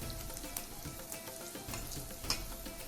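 Sausage and chopped onion frying in a pan for a sausage masala, a steady low sizzle and crackle with a few brief louder pops, fairly faint and close, no voices.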